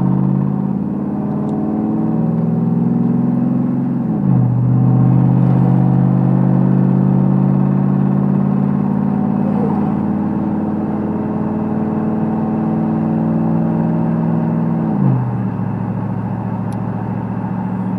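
A car engine hums loudly and steadily, with two distinct pitch drops where it shifts or changes speed, and no talking over it.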